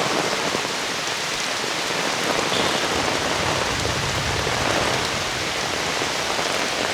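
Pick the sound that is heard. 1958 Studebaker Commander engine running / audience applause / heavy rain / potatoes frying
heavy rain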